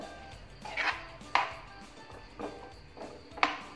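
A utensil stirring butter chicken gravy in a pan with sugar and crushed kasuri methi, giving sharp scraping clinks against the metal at an uneven pace, about five distinct knocks over soft background noise.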